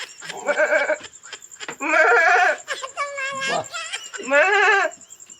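A person imitates a goat's bleat in a comedy sketch, giving a few loud, wavering, nasal bleats in quick succession with short pauses between them.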